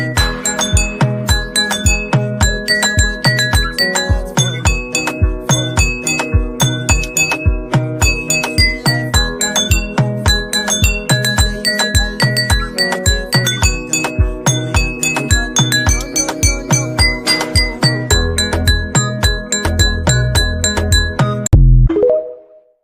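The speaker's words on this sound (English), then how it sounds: "Let me ring this good late bell." A school-style late bell rings continuously for over twenty seconds in a fast, even clanging rhythm, loud and close, before cutting off abruptly at the end.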